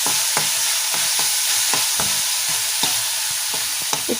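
Chicken momo filling with tomato and green chilli paste frying in a pan, a steady loud sizzle broken by regular scraping strokes of a spatula stirring it, with no voices.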